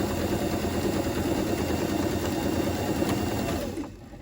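A sewing machine runs steadily while stitching a fabric scrunchie seam at a half-inch allowance, giving a close, continuous motor whir and needle chatter that stops abruptly near the end.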